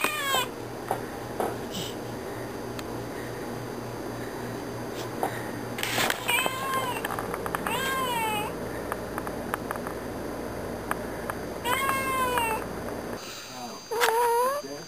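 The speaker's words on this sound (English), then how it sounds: "They have a really nice little cat who has to be probably the most noisiest cat I've ever known in my entire life." A house cat meows loudly and repeatedly indoors, its drawn-out, wavering calls coming up close in several bursts over a quiet room background.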